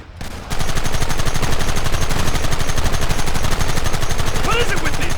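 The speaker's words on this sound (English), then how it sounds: "There they are! Open fire!" Loud, rapid Red Dead Redemption gunfire erupts after a brief quiet start, a dense continuous barrage of overlapping shots that keeps going close and steady throughout.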